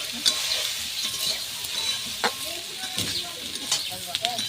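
Fried neem leaves being stirred into potatoes in a pan, soft sizzling frying hiss throughout with scattered sharp scraping clinks of the spatula, moderately close.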